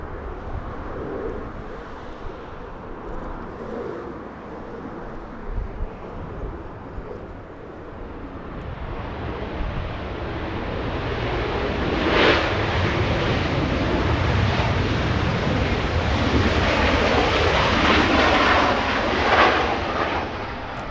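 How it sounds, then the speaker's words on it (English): A Southwest airliner from Houston comes in to land at Los Angeles International, its engine roar swelling gradually from a distant rumble to a louder, broad whoosh over about twenty seconds. "Southwest 9003, this one from Houston, Texas,"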